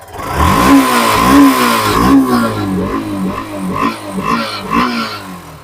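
A motorcycle at a bike showroom, reportedly a little troublesome to start, runs close by and is revved repeatedly, its engine note rising and falling in a series of loud, rhythmic surges over a chugging idle.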